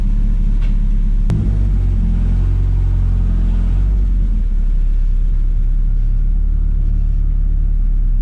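A Chevrolet S10 pickup with a swapped turbocharged boat engine, six-speed gearbox and independent rear suspension drives around the block, a loud, steady low engine rumble heard from inside with a sharp click near the start.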